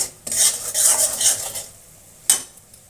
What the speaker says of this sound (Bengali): 3 টেবিল চামচ সুজি দিয়ে ভালো করে তেলের সঙ্গে নেড়ে চেড়ে ভেজে নিই হালকা ব্রাউন কালার করে।